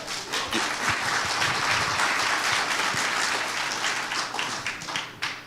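Audience clapping at a street political rally in Daegu, a dense burst of applause that holds steady and tapers off near the end.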